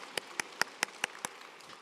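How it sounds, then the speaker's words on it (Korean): Hand claps ring out in a church service as blessing applause for the pastor's visiting family, about seven evenly spaced, fairly faint claps in a quick steady rhythm, with no talking. "우리 귀한 가족분들에게 우리 축복의 박수 함께 보내시겠습니다"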